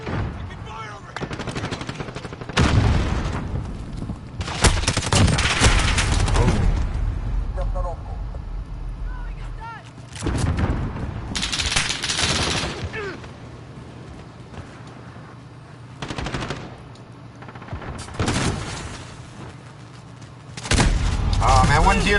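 Gunfire in the video game Call of Duty: Modern Warfare, loud sustained machine-gun bursts and booming shots in repeated waves across the stretch, with players talking over the combat.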